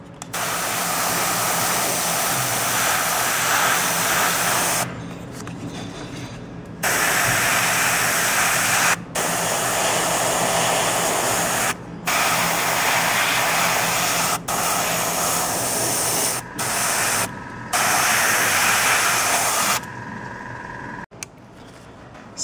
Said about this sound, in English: I'm basically going to airbrush all the skin on it with